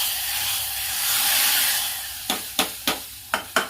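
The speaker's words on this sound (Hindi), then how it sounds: "अब इसे मैं छौंक लगा दूंगी।" A steady, broad hiss of spices and Kashmiri red chili sizzling in hot oil for tempering khichdi fills the first part, then several sharp clinks of a spoon against a pan ring out in quick succession.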